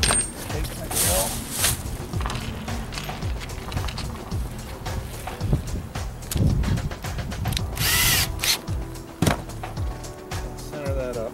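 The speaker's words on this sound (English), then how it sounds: "take my drill," A power drill runs in bursts while marking hole positions on a new boat portlight trim ring set against the old one, with tool handling clatter and knocks between runs.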